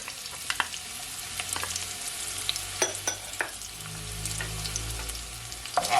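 Garlic frying over medium heat in a pan for Jamaican pepper shrimp, a continuous crackling sizzle with a few light stirring knocks.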